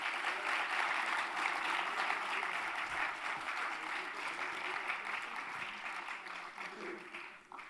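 Steady applause from an audience at a community service society's honoring event, continuous clapping at moderate distance that gradually fades toward the end.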